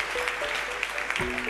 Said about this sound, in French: on peut applaudir très très fort Victoria